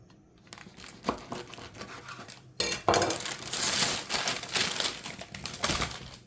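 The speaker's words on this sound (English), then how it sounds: "we're going to just cut a piece, and we'll cut it on this big" A knife cuts through a fresh, crusty loaf of French bread for a Vietnamese banh mi, giving close crackly crunching and crumbling bursts that come in uneven waves, with no talking.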